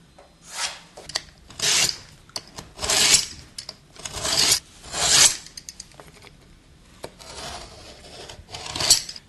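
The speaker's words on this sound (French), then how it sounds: "on va faire une découpe dans notre placo pour pouvoir la dévisser si besoin par la suite" Hand rasping or sawing through plasterboard to cut an opening, with repeated broadband bursts about once a second, close and fairly loud, with quieter scraping between strokes and no voices.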